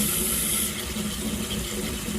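Water runs steadily from a tap into a bathtub filling for a bath, a continuous close rushing splash that softens slightly partway through, with no talking.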